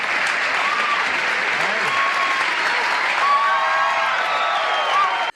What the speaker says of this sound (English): the crowd will not stop cheering